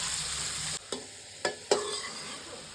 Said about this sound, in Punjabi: ਮੀਡੀਅਮ ਫਲੇਮ ਤੇ ਆਪਾਂ ਇਹਨਾਂ ਨੂੰ ਹਲਕਾ ਜਿਹਾ ਫਰਾਈ ਕਰ ਲਵਾਂਗੇ